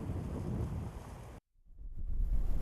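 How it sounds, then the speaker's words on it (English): Strong winds from Hurricane Michael in Waycross buffet the microphone with a loud, low, rumbling roar that cuts out for a moment, then surges back even stronger. "The winds are now picking up."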